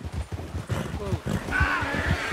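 Horse hooves and snorting in the Red Dead Redemption video game, heard as a quick clip-clop run and a brief neigh beneath excited talk from players.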